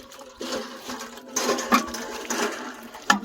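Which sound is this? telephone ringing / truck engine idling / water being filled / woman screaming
water being filled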